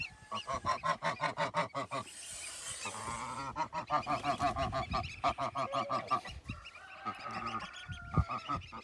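Geese honk loudly and repeatedly at close range in a rapid, rhythmic series of nasal calls, with brief pauses between bursts and no talking.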